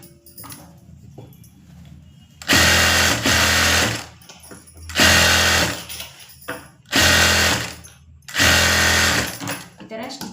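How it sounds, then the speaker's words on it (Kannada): A sewing machine stitches a straight line along a blouse sleeve lining in four loud, steady bursts separated by short pauses, with a voice talking faintly in the gaps. "ಅದನ್ನು ಸ್ಟಿಚ್ ಮಾಡ್ಕೊಳ್ಳಿ ಸ್ಟ್ರೈಟ್ ಒಂದು ಲೈನ್ಗೆ"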